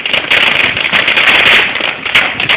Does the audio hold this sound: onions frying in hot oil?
no